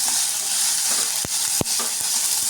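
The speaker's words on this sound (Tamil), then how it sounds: "நல்லா கொஞ்சம் வதங்கணும்." Green chillies and onions sauté in a pan for a roasted gram and onion chutney, giving a loud, steady, close sizzle. A couple of sharp stirring knocks break through it.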